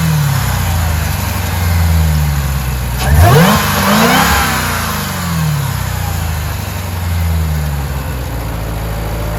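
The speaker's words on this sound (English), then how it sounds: "So I'm gonna turn it on for you guys so you can see this beast start up." A 2023 Dodge Durango Hellcat's supercharged 710-horsepower engine fires up with a sharp bark, then revs hard in a couple of rising and falling sweeps before settling into a deep, rumbling idle, loud and close.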